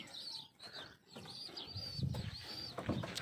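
Pigeon chicks give thin, repeated squeaky calls inside a desert pigeon coop, with rustling and soft flapping around them at close range.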